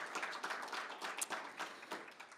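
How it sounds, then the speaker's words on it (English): Faint clapping from an audience applauding a summer institute cohort on demo day, steady and moderately dense throughout, heard from a distance. "I would like to give another round of applause to our amazing cohort."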